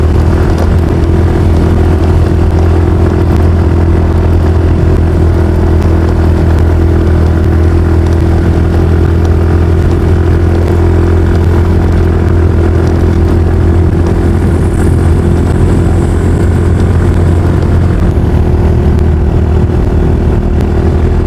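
A motorcycle engine idles loudly and steadily close by, a constant low chugging rumble with no talking.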